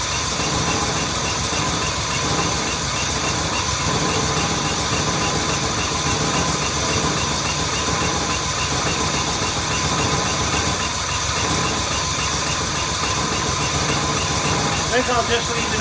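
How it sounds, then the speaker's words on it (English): A Jaguar MKII's engine, reassembled and needing fine tuning, runs at a rough idle: a loud, close, continuous mechanical drone with uneven vibration, while someone talks over it. "I think I'll just leave it idling for a while, even though it's idling rough."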